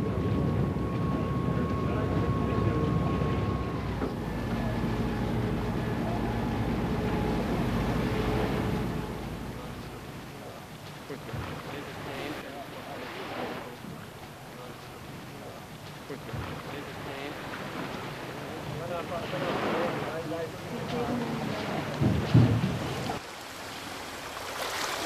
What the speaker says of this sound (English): we are being transferred with a smaller boat to the sandy beach